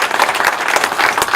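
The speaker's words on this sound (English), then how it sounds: "Show of hands by applause." Brisk, dense applause from an audience in the hall at an OHA awards ceremony at the Hockey Hall of Fame, a short, loud burst of many hands clapping with no talk over it.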